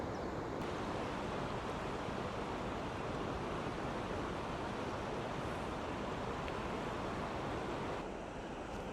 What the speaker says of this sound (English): in the middle of the town, there's actually a big river coming down